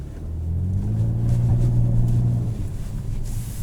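A 2021 Nissan Maxima SR pulling away from a standstill in snow, its engine note climbing steadily and rumbling close inside the cabin before easing off.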